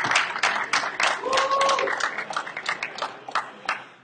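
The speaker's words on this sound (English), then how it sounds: "let's have a round of applause for Joe Yglesias" A studio audience on a Star Wars collectors podcast applauds and claps for a guest, the ragged clapping sustained for about four seconds before tapering, with a brief voice or tone mixed in.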